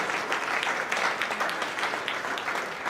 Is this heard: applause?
yes